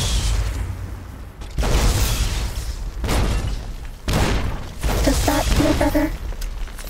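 Rocket explosions in the video game Fallout New Vegas, several heavy booming blasts in quick succession, each a dense wide burst of rumble, loud and close, with a faint tonal sound near the end.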